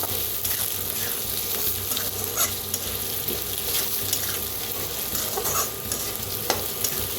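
Kolhapuri red chili powder being stirred into frying potatoes and vegetables in a pan, a loud close sizzle with repeated spoon scrapes and stirring strokes throughout, no talking.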